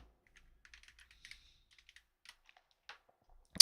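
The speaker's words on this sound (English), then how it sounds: "this is Knob 1 keyboard test" Keystrokes on a Knob 1 computer keyboard, a close, crisp series of clicks and clacks in quick irregular bursts, finishing with a louder clack at the end.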